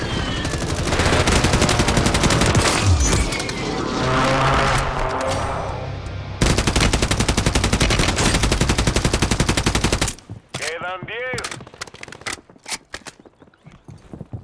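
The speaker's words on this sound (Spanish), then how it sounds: "se matan con escopeta" Loud bursts of gunfire in the battle royale game Warzone, including shotgun shots, rattle in fast, dense volleys for about ten seconds, then give way to quieter scattered sounds.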